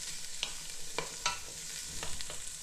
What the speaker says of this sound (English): can you hear the sizzle of the garlic and the pepper?